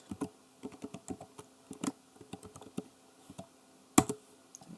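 Login details are entered on a computer keyboard: a run of close, light keystrokes in uneven bursts, with one sharper, louder clack near the end.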